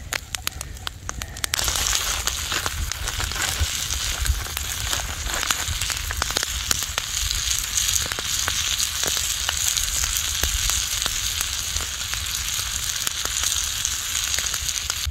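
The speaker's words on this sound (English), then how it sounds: "Oh yeah, listen to the sizzle." Ham, bacon, potatoes and onion sizzle steadily in a pan at a winter backpacking camp, a dense continuous crackling frying noise with scattered pops, close and fairly loud throughout with no talking.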